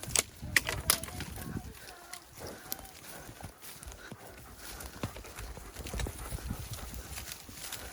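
Horse hooves clop along a trail in an uneven walking rhythm, sharper and louder at first, then softer and steadier.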